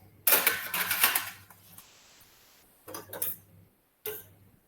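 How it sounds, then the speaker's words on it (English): A knife cuts thin slices through a rested, rare grilled steak, giving soft scraping strokes in short bursts with quiet pauses between them. The sound is close and moderately loud, and no one speaks. "I'm going to thinly slice it"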